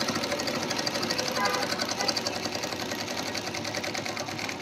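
A Merritt Workmate sewing machine stitches close by with a rapid, steady mechanical clatter that runs without pause, while a person talks over it.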